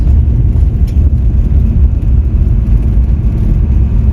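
Truck camper driving at about 20 miles per hour on a gravel road at night, a loud, steady low rumble of tires and engine from inside the cab, continuous and unbroken, with no talking.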